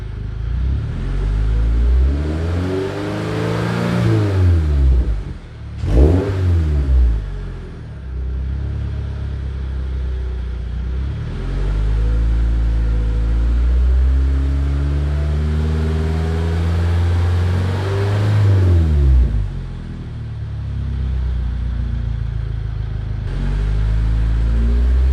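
A 2022 Subaru BRZ fitted with an MXP SP cat-back exhaust revs repeatedly, the engine climbing and falling in several long, loud sweeps with deep exhaust rumble, heard close and without talk.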